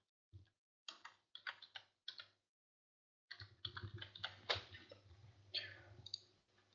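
Keys click on a computer keyboard while typing into a Microsoft Access 2010 form: a few separate taps, a pause, then a quicker, denser run of close, quiet keystrokes.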